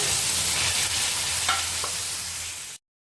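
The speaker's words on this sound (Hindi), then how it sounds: "ये शामिल करूंगी और इसको करूंगी मिक्स। 1 मिनट तक इसके साथ भी फ्राई करूंगी।" Halved green chilies fry in a pan for potato karahi, a steady close sizzle with faint stirring scrapes that stops abruptly.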